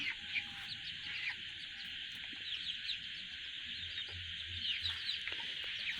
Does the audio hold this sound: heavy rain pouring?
no